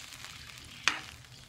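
Coconut milk poured into a pan of cooking tilapia sets off a short, sharp sizzle burst, then fades back to a faint, steady frying hiss.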